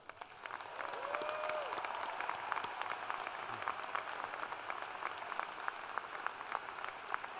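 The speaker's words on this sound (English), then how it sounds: "Please join me in showing our appreciation with a round of applause for all of their efforts." Commencement audience applauds for several seconds, a dense steady wash of many hands with brief whistle-like tones near the start.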